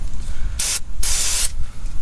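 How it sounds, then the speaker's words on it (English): Aerosol brake cleaner is sprayed onto a car's brake caliper during suspension work on a Mercury, Ford or Lincoln vehicle: two loud hissing bursts, a short one followed by a longer one, over a quiet background. "just spray it"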